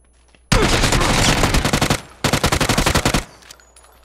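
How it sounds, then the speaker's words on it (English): Automatic gunfire in the video game PUBG, two loud close bursts of rapid rattling shots, the first about a second and a half long and the second just over one second, separated by a brief pause. "Shoot him, Krabs."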